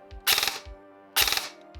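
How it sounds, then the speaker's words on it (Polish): Two quick four-round bursts from a Zion Arms PW9 Mod 1 airsoft replica, each a tight cluster of several sharp mechanical shots, with a short gap between them. "4-strzałowy burst"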